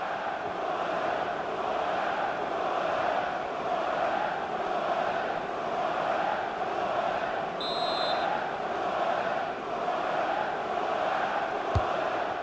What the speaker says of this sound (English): the crowd indulging in a Mexican wave